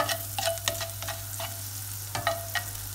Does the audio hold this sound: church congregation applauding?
no